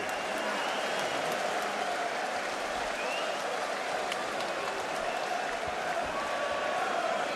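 Boxing arena crowd applauding Kostya Tszyu after his fight with Ricky Hatton, a steady, dense wash of clapping and crowd noise sustained throughout without letup.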